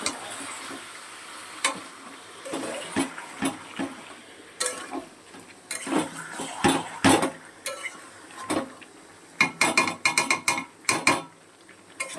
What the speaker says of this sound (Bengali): এবারে এটা আমি ভালো করে কষাবো, কষিয়ে তারপর রান্নাটা হবে।